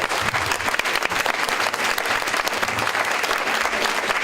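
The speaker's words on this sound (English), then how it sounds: "So yes, let's give these organizations a round of applause." Steady, dense applause from an audience at a 2017 sheriffs' debate, sustained and fairly loud throughout with no talking over it.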